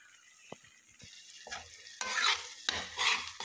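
Masala paste with coriander is stirred and sautéed in a pan, giving close scraping strokes and bursts of sizzling that rise and fall with each stir, growing louder toward the end.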